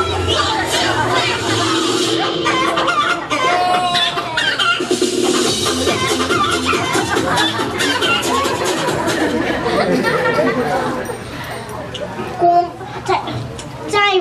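Rooster clucking and crowing in a short children's drama about a rooster, heard amid lively chatter and young voices throughout, with a few sharper calls breaking through near the end.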